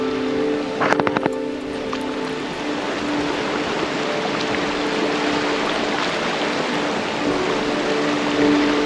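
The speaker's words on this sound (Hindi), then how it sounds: "आवाज़ आ रहा है झरना का यहाँ तक" Rushing water from Sikidiri Waterfall near Ranchi, a steady broad roar heard from a short distance, with a few brief clicks early on and no voices.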